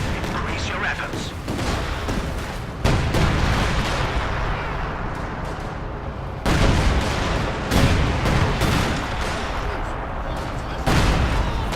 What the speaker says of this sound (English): More rockets flying through the air. Howitzers back in the fight and ready to provide fresh support.